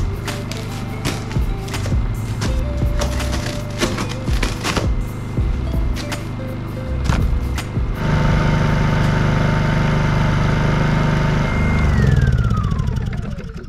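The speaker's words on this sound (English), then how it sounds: "the first thing I'm gonna do is start up the generator, let it warm up, let that oil get warm so it'll drain" A Honda portable generator runs steadily as it warms up before an oil service, a loud, close, even mechanical drone with a few sharp clicks early on and no speech.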